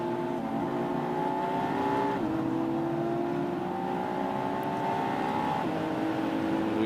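Onboard a McLaren race car at Sonoma during a McLaren Trophy America race, a steady loud engine drone that climbs in pitch through the gears with short drops at each shift, no talk.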